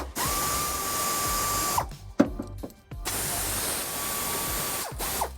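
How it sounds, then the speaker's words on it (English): A ratchet with a 12mm socket backs out exhaust bracket bolts on a 2013 Kia Optima, two bursts of rapid close-up clicking separated by a short pause with light clanks, no talking. "I'm removing these with a 12mm socket."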